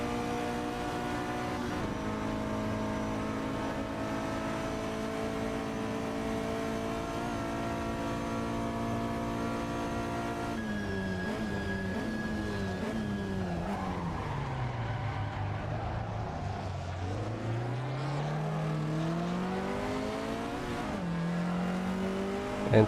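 Vintage GT race cars in a racing video game, engines droning and shifting pitch as they rev up and down through corners with tires squealing, a continuous close-up roar with no speech.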